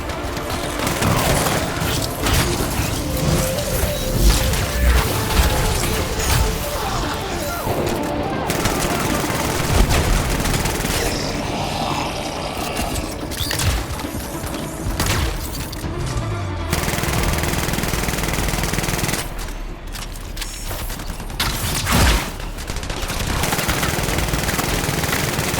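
Sentinels fighting Scar turrets in the video game Anthem, with dense rattling bursts of rapid gunfire and heavy booms over a loud, busy battle din, with voices talking at times.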